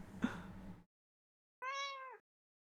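A single cat meow, clear and fairly close, rising and falling over about half a second, follows a burst of rustling handling noise and a short silence.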